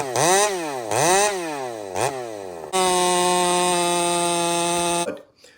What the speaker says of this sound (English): we're going to take out the power saw that I ground on that new grinder